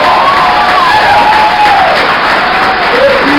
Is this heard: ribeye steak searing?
no